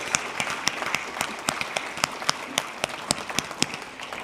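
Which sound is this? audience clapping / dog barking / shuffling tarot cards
audience clapping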